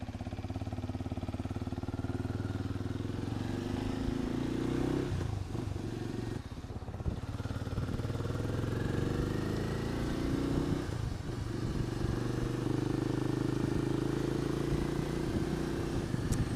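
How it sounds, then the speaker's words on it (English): Benelli Imperiale 400 motorcycle being ridden on an everyday trip: a steady, throaty single-cylinder engine drone with wind rush, holding a fairly constant pace with slight shifts in pitch. "I'm riding my Benelli Imperiale 400 and it is turning out to be quite delightful"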